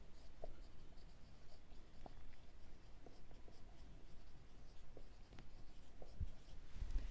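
Pen writing an accounting entry by hand on paper, soft continuous scratching strokes with small taps, close and quiet against a faint room hiss.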